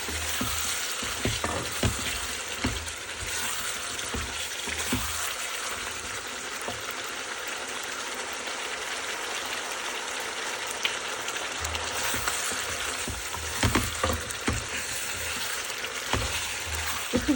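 Chicken pieces sizzle and fry in a pan while being sautéed and stirred, a constant hissing crackle with occasional scrapes and knocks of the spoon, close and without talk.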